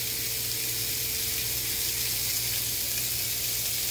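Stuffed bacon cheese burgers fry in a pan over medium-low heat, giving a steady, close, even sizzle with no breaks.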